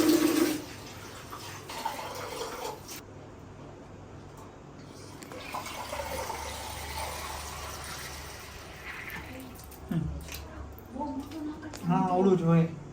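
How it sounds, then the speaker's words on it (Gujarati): Water running from a tap into a balloon during a water-balloon prank game: a steady hissing, gurgling flow that continues for several seconds, with people talking over it near the end. "ફુગ્ગામાં પાણી ભરી લઈ જો"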